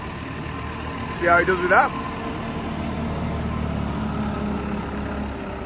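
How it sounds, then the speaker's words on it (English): Steady low engine drone of a tractor driving a straw blower runs throughout, with a brief burst of nearby talk over it early on. "Andy's coming out, getting back on the straw blower."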